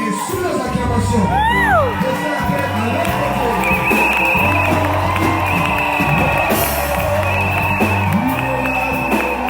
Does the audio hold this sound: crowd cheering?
yes